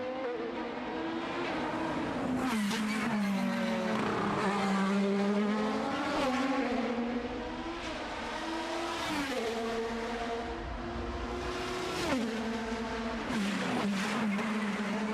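IndyCar race cars scream past during qualifying at the Long Beach Grand Prix, high-pitched engines rising and falling as they shift and pass, loud and repeated without talk.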